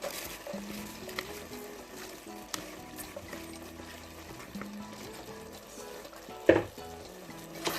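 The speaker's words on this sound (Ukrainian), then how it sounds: "Добре все перемішуємо. трошечки його як обжаримо" Rice fries with caramelized apples for a sweet plov, a low steady sizzle running throughout under occasional stirring scrapes and one sharper knock near the end.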